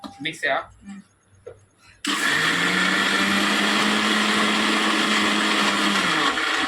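An electric mixer grinder switches on after a short stretch of talk and runs loud and steady at close range through to the end, with a steady whine over a rough grinding roar, during a Sunday idli-making session.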